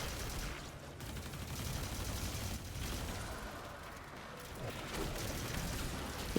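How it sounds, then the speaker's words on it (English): Rapid bursts of rocket sidearm gunfire in Destiny 2 during a Nightfall fight, dense crackling shots and impacts repeating throughout, loud and close with game ambience. "You just tap them with the rocket sidearm to break that shield"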